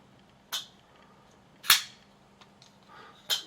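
A Shirogorov Hati Gen 3 flipper knife with technocarbon scales snaps open three times. Each flick makes a close, bright, crisp click, separated by quiet handling noise.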